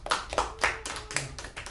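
Sparse clapping from a small audience at a Saturday school talk, about eight distinct, fairly quiet claps in an uneven rhythm over under two seconds.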